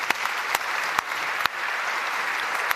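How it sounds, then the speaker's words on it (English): Conference audience in Vienna applauding a panel of seven speakers, a steady wash of many hands clapping at moderate level with a few sharper near claps standing out, no voices over it. "Please join me and applaud these 7 speakers that have done"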